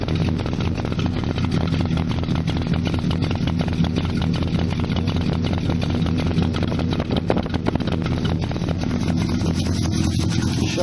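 A 1976 Holden Torana SL/R engine idles steadily nearby, a continuous even rumbling drone with a fast regular pulse that holds at constant loudness throughout with no talking.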